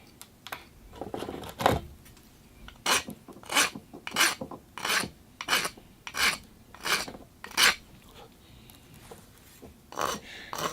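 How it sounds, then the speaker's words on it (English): Pliers nibble thick flashing off a cast temple piece, producing a rhythmic series of about a dozen crisp, scraping crunches, close and fairly quiet, with short pauses between bites. "Nibble away at it with the pliers."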